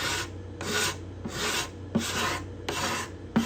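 A hand scraper works along the bindings and purflings of a cedar guitar top in even repeated strokes, about five rasping passes that are close and fairly quiet, with brief pauses between them.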